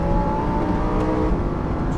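A car engine roars at full throttle, loud and sustained at close range, on the racing circuit at Lohéac.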